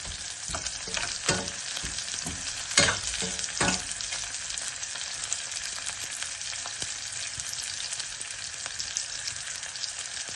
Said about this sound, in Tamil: வெங்காயம், பச்சை மிளகாய் எல்லாம் வதங்கி கொண்டிருக்குது.